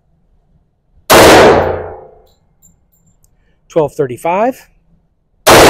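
Sharp, loud 10mm pistol shot from a 3.8-inch Springfield firing Sig Sauer range ammo at an outdoor range, a single crack with a long ringing decay, then a brief spoken number and the start of another shot.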